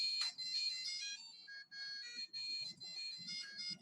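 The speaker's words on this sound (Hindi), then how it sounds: "चलिए ये मेरा अलार्म है।" A phone alarm rings with a repeating electronic melody, bright and fairly close, playing continuously in short pulsing phrases with brief gaps between them.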